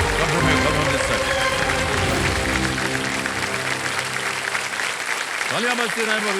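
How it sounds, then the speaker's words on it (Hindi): A studio audience on a TV quiz show applauds a contestant, with dense continuous clapping under swelling background music, loud and sustained throughout. "तालियां बजती रहे बबीता जी के लिए।"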